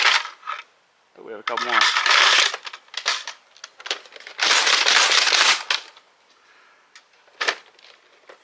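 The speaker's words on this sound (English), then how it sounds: "I'm gonna slam fire it." Dart Zone Max Dictator toy blaster slam-fired in bursts of rapid mechanical clacks and thumps, with two long loud volleys and a few short single shots, separated by quieter gaps where a person speaks briefly.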